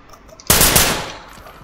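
A sharp burst of gunfire in the tactical shooter Ready or Not, one loud, close report with a rapid attack and a short ringing decay, heard on its own.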